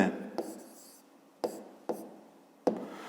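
A pen writes on paper during a fifth-grade maths exercise, with short close scratchy strokes and a few sharp taps spread unevenly.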